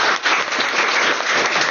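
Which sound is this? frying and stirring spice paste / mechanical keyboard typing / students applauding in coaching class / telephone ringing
students applauding in coaching class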